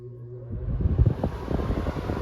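Window air conditioner inside an RV, switched to high cooling mode and starting up: a low rumble rising into a broad fan whoosh that settles into a steady, fairly loud drone.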